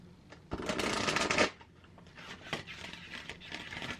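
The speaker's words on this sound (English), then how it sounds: "You can riffle shuffle it." Large circular tarot card deck being riffle shuffled, with one loud close burst of cards riffling followed by softer shuffling and a light tap.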